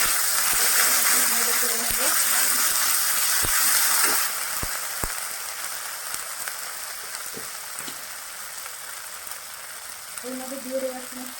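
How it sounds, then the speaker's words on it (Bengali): Ginger, cumin and chili paste sizzle and fry steadily in a pan, a dense crackling hiss with scattered ticks of stirring, while someone talks over it at times. "মশলাটা ভালো করে কষিয়ে নেবো"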